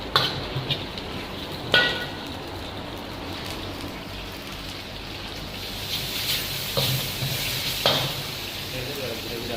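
Beef kothu parotta ingredients mixed in a hot pan, a low steady frying hiss with a few sharp clanks and scrapes of the spatula at intervals, close by.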